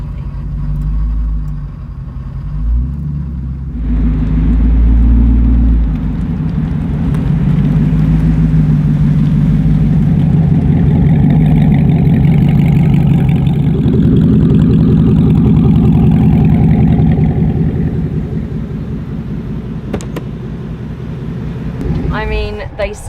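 A deep, loud Devel Sixteen hypercar engine idles with a throaty rumble, swelling slightly in the middle before settling back, heard up close.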